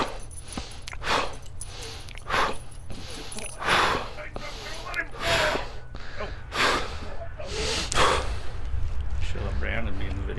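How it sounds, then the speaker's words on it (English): Systema breathing pattern: repeated sharp, forceful breaths, snorts and gasps at an irregular rhythm, close and loud, over a low steady background hum. "This is the Systema breathing pattern."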